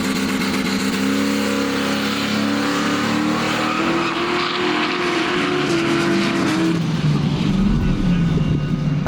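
A drag race car launches and accelerates hard down the strip, its engine roaring loud and continuous for the whole run, with the pitch climbing through the gears and a tire squeal mixed in.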